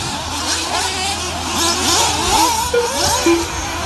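Nitro RC buggy engines racing in a buggy main event at an outdoor track, a loud, steady, high-pitched whine with rising and falling revs as several cars pass, continuous throughout without any speech.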